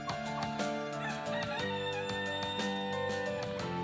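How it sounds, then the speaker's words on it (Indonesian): Ornamental turkeys of breeds such as Black Spanish and White Holland, kept in a backyard, call steadily and loudly throughout, with overlapping gobbling and crowing-like fowl sounds close by and no talking. "Ayam kalkun hias ini dipelihara di halaman belakang rumahnya."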